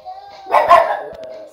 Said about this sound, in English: Look at the puppy on TV.